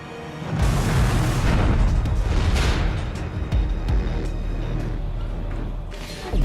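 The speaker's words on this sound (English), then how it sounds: "this huge explosion going on behind you" A huge special-effects explosion goes off on a Fast and Furious film set, opening with a sudden, very loud boom that rolls into a long, rumbling roar of debris and fire.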